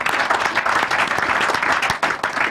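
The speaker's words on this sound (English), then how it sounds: "Let's give him a bigger round of applause" An audience applauds a man at a Nigerian institute gathering, giving brisk, fairly close clapping with individual claps standing out from a dense, uneven rhythm, and no voices over it.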